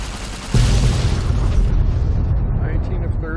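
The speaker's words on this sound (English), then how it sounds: "There's a challenge to shoot all the warheads." Warhead exploding after being shot in Fallout: New Vegas, Lonesome Road: a deep, loud boom bursts in suddenly and rumbles on with a rolling low roar, alone.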